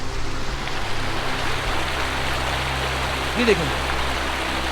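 Mountain stream of flowing water on the Beyal Camp trek near Nanga Parbat, a loud, steady rushing wash throughout, with someone speaking briefly over it.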